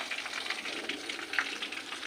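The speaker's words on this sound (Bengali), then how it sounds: "পেঁয়াজগুলো লাল লাল করে ভেজে ফেলতে হবে।" Onions and a ginger, garlic, tomato and green chilli paste fry in a pan for desi chicken curry, a soft, steady close-up sizzle with no talking.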